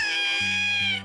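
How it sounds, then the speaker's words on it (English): Cartoon cat woken in a dustbin gives a loud, close, drawn-out yowling meow that rises and then cuts off. "This wakes up a cat who was sleeping in a dustbin."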